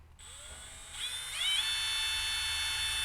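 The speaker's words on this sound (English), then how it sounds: "Chris is gonna do a little pilot hole right there on that little dimple" A drill bores a small pilot hole into a Club Car Tempo body panel. The motor spins up with a rising whine, then settles into a steady high-pitched buzz as the bit cuts, heard alone and fairly close.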